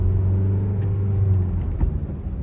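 Car engine pulling away and accelerating before shifting into second gear during a driving lesson, a steady close engine hum and rumble with a slight dip in pitch near the end.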